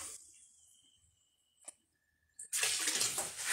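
Equipment from a home moonshine fermentation setup is rinsed under a running tap; after quiet handling clicks, water bursts on loudly and splashes steadily to the end.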